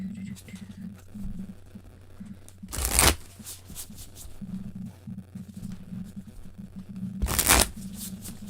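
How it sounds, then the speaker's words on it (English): Tarot cards are shuffled in two sharp, loud riffling bursts a few seconds apart, with a quiet voice speaking in the background between them. "I love how these cards shuffle."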